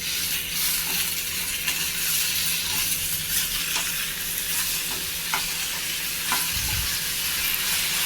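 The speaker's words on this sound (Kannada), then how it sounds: "ಇವಾಗ 3 ಟೊಮೊಟೊ ಕಟ್ ಮಾಡಿ ಇಟ್ಕೊಂಡಿದ್ದೀನಿ, ಅದನ್ನು ಸೇರಿಸ್ಕೊಳ್ತಿದ್ದೀನಿ." Three chopped tomatoes frying with onions in a pan for tomato chutney, a steady close sizzle with intermittent clicks and scrapes of stirring and a soft low thump near the end.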